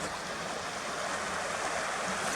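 River water flows across a stony ford in Kidland Forest, a steady close rushing hiss with no breaks and no talk.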